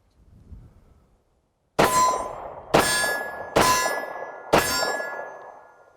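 Four FN-509 Tactical pistol shots ring steel targets at about 21 feet. After a quiet start, each sharp, loud clang has a shimmering metallic ring that decays before the next strike lands.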